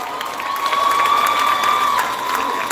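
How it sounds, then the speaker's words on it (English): A graduation crowd applauds past students with a steady wash of clapping and cheering, a sustained whistle-like tone running through the middle. "Give them a round of applause, everyone"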